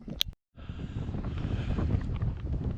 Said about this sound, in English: Bit windy up here.